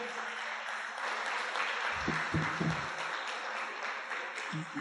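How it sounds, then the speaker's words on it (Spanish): A crowd applauds steadily after a conference talk, a dense wash of clapping that holds at an even level throughout. "Un aplauso para nuestro hermano Alex Sender."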